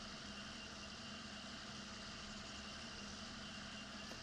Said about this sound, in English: Lord, does this tractor roll some coal?